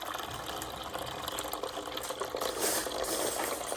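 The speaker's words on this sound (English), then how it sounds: "But we'll just go ahead and pour right in." Water poured from a container into the tank of an Arctic Air Chill Zone XL personal air cooler, a steady close splashing and trickling stream that holds for about four seconds, with no talking over it.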